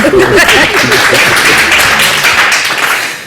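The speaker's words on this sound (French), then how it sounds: "On applaudit très fort." A loud, dense burst of audience applause fills a romance-themed stage show, sustained and close throughout, with a few voices mixed in near the start.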